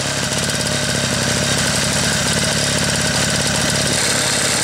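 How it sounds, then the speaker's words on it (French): A restored Solex 6000 moped engine idling with a low idle and heavy vibration, a loud, close, steady mechanical chugging that runs throughout. "Le ralenti est beaucoup plus bas."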